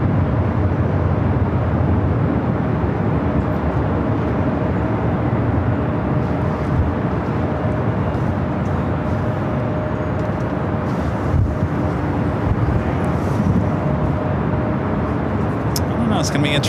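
An Airbus A330neo airliner taxis at LAX, heard as a steady, broad engine roar that fills the whole stretch at an even loudness, with a faint low hum underneath and a radio voice speaking now and then.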